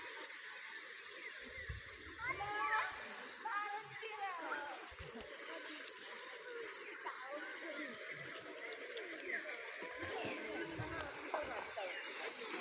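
Faint river water flowing and splashing from people bathing outdoors, with a steady hiss and scattered splashes, while voices chatter in the distance.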